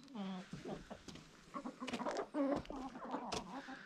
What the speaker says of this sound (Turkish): Kuş.